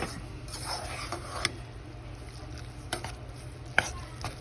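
Mac and cheese with milk and cheese being stirred in a pot, soft scraping strokes with a few sharper clinks of the utensil against the pot, quiet and close, with no talking.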